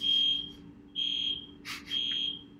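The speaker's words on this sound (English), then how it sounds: "I have a fire alarm going, which is nice." Fire alarm beeping indoors during a lecture: three loud, shrill, evenly pitched beeps in a repeating pattern over a low steady hum, with a brief rustling noise between the second and third beeps.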